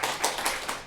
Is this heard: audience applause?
yes